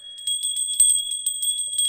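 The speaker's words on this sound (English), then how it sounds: "I don't normally do this, but I want to ring my bell" A small bell jingles rapidly in repeated bright shakes, close and clear, with no voices.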